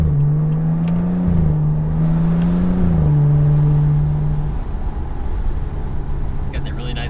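A tuned BMW 335i F30 with a Bootmod3 Stage 2 tune and full bolt-ons holds a loud, steady engine growl whose pitch rises, then settles and drops away as the car cruises on.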